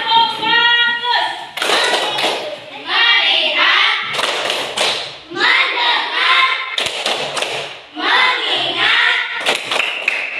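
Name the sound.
class doing a rhythmic group clapping routine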